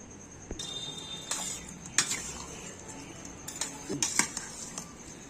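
A spoon stirs sweet paniyaram floating in milk in a metal vessel, giving light scrapes and a few distinct metallic clinks against a soft background hiss.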